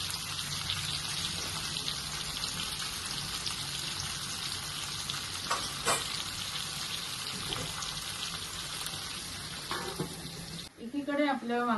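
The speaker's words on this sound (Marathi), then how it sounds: "या कढईमध्ये आपण फोडणीवरती शिजवून घेणार आहोत." Stuffed brinjals, bananas and potatoes cooking in a kadhai on a spice tempering for Surti undhiyu, a steady close sizzle and hiss with a few sharper pops; the sizzling stops near the end.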